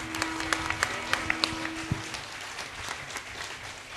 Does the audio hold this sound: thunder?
no